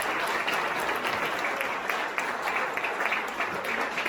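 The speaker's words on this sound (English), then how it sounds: "Everyone give them a round of applause." A crowd at a congressional district debate event in the Country Palms venue applauds in a continuous, even roar of clapping that holds steady from start to finish, moderately distant, without talk.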